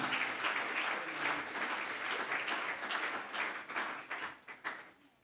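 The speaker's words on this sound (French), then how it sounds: "Est-ce qu'on peut acclamer encore très fort? Acclame encore, bien-aimé." A church congregation applauds loudly and steadily at a deliverance service, a dense wash of many hands clapping that thins into scattered claps near the end, with no talk.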